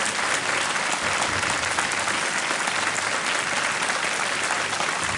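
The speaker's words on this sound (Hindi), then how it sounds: "तालियां बजती रहें।" Sustained studio audience applause on the Hindi quiz show Kaun Banega Crorepati for a contestant who answered correctly, a dense, steady roar of clapping filling the whole stretch with no gaps.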